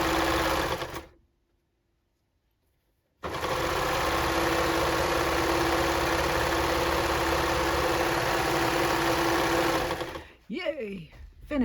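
A sewing machine runs in steady motor bursts while stitching refashioned jacket pieces together, with a short pause partway through and a voice speaking over the final seconds.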